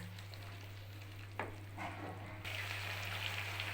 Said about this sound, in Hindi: भूनते हैं ताकि दही भी इसमें मिक्स हो जाए और अच्छी तरह ये भून जाए दोबारा से।